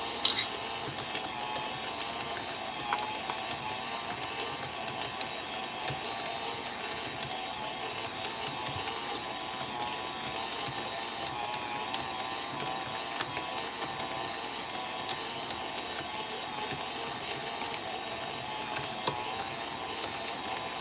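A stand mixer kneads bun dough as butter is added a little at a time, giving a continuous close mechanical whir with rattling, clanking gear-like clatter throughout.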